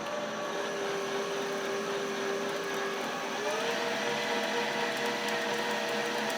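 Precision Matthews PM 1440 HVT-2 metal lathe turning steel into blue chips at raised spindle speed, a steady whining hum with tonal lines that step up in pitch partway through, close and continuous with no talk.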